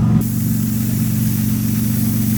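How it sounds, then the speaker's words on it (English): A car engine runs in a car wash, giving a loud, close, steady low hum that holds even without a clear rise in pitch, with a brief burst of spray noise at the start. "Rev it a little bit?"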